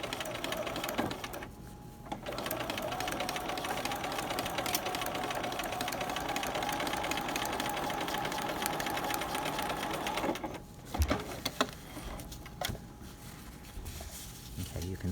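A sewing machine stitches a baby ruffle in fast continuous whirring runs with a couple of brief pauses, fairly quiet and close.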